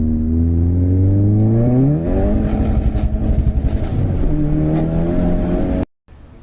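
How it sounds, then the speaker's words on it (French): A tuned Seat Leon Cupra stage 2 of about 400 horsepower revs hard and loudly, its engine note climbing, dipping and climbing again with rasping harmonics, close by and alone before cutting off abruptly near the end. "Parce qu'il faut se dire que cette voiture elle gueule pas mal."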